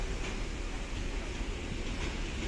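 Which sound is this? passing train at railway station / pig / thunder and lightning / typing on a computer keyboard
passing train at railway station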